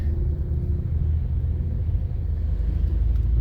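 Steady low rumble of car traffic on EDSA between Ayala and Guadalupe, heard from inside a vehicle crawling through congestion, a continuous engine and road drone with no talk.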